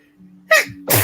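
A single sharp human sneeze, close and loud, with a short inhale leading into it and a quick burst of air at the end.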